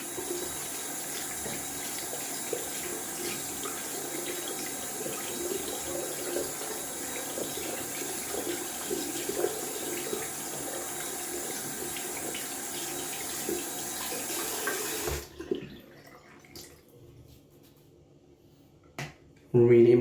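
Lukewarm tap water runs steadily while boar shaving brushes are rinsed at a sink, a continuous close splashing hiss for about fifteen seconds before it stops, followed by near silence and a brief clatter at the end.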